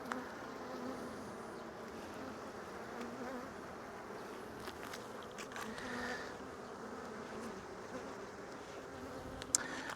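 Honey bees buzz steadily around an open hive while a weak colony is worked, a dense, continuous hum with a few louder passes close by.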